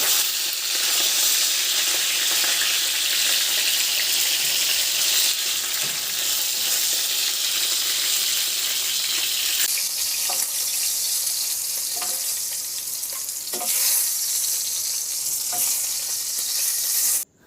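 Talakitok fish frying in a pan gives a steady, loud sizzle throughout, with a few faint clinks and stirring knocks near the end and no voices.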